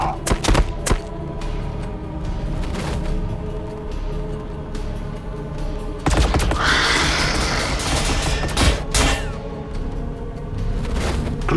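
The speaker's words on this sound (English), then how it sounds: "Firing on target." Warhammer 40,000: Battlesector strategy game battle with Tau units: sustained crackling bursts of gunfire and heavy thumps layered over a dense rumbling soundscape, fairly loud throughout, with brief voiced unit lines.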